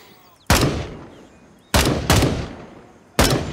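Rifle fire in the tactical shooter Gray Zone Warfare, switched to single-shot mode: four sharp, loud individual gunshots in an irregular rhythm, each with a ringing decaying tail and no talk over them.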